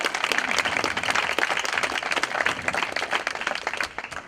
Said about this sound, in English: Nice applause before we even say anything.